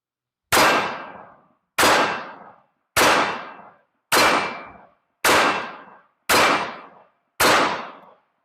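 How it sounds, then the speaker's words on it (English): Sig Sauer 1911-X pistol fired one-handed, seven loud sharp shots at an even pace about one second apart, each with a short ringing decay, close and with no talk between them. "I'm going to shoot this one-handed to see how it feels with that ammunition."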